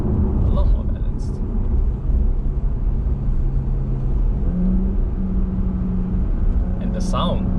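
Tuned Porsche Panamera engine and gearbox, remapped by DNATuning Malaysia, holds a steady loud rumbling drone with a rising tone midway, while a person talks over it throughout.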